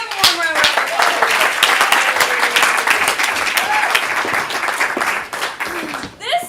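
Audience at an improv comedy show applauds two teams on stage, a loud sustained burst of dense clapping with scattered cheers and whoops that fades near the end.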